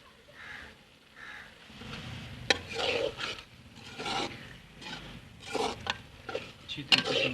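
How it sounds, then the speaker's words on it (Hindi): Chicken being stirred and fried in masala with ghee and lemon juice, heard as intermittent scraping and rubbing strokes of a utensil in a pan, fairly quiet, with scattered clinks. "अच्छी तरीके से मिक्स करना और इसको अच्छी तरीके से भून लेना मसाले के अंदर"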